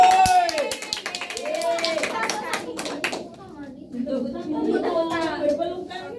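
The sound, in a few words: clapping in classroom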